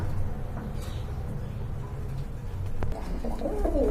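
A male pigeon coos somewhere outside, faint and distant, its low murmuring calls partly buried in steady background noise.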